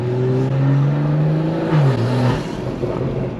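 Close engine drone with a rising turbo whine that bends and drops off, then the exhaust note settles into a rougher rumble through a valvetronic exhaust; no talking.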